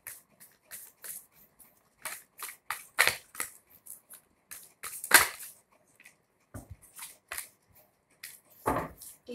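Tarot cards shuffled by hand, with crisp, close riffling and slapping bursts in an uneven rhythm separated by short quiet pauses, no talking.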